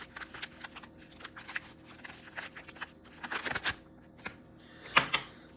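Plastic packaging for a DJI Osmo Action 5 Pro camera crinkles and tears close up, with a run of quick scratchy rustles and sharper rips that grow louder toward the end.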